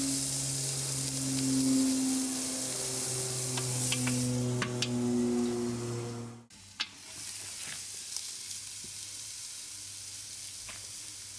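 Steak sears on a hot grill pan with a loud, continuous sizzle and crackling spatters, a low steady hum beneath; a brief dip near the middle, then quieter sizzling with occasional pops.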